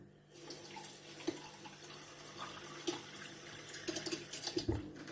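Water poured from a glass into the pot of a Ninja Foodi MAX multicooker to cook rice, a soft steady trickle with a few brief splashes and clinks, close and fairly quiet.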